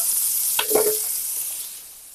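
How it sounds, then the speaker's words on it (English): Loud, steady sizzling of onions frying in bacon grease, with a brief scrape of a utensil stirring the pan partway through. "Nothing like the smell of bacon grease frying up some onions in the morning."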